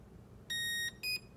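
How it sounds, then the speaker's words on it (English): One long electronic beep followed by a brief pause and a single short beep from a Proboat Zelos 36 boat's ESC, signalling a 6S battery, clear tones over a quiet hiss. "one long beep and a short beep"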